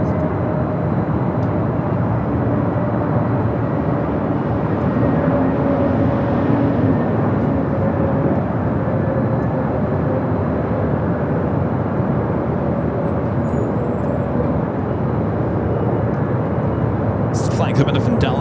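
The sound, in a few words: Airbus A321neo airliner arriving at LAX from Dallas Fort Worth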